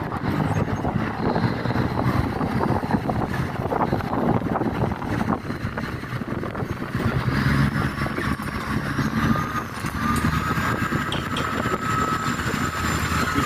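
Boats run on the river at Tha Ratchini pier in Bangkok, giving a steady low engine rumble while wind buffets the microphone, with faint tonal hums rising in the later part.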